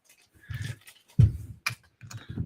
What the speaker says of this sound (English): he's crinkling the bags right now